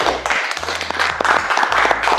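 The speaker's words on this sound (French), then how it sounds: "On les applaudit." A game-show audience applauds an eliminated couple, brief close clapping over a low rhythmic music bed.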